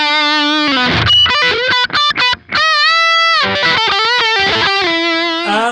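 Electric guitar played through a Kemper profile of a Marshall amp with the guitar volume knob near 8, giving a loud, driven tone of sustained chords and short choppy stabs with brief gaps, heard alone.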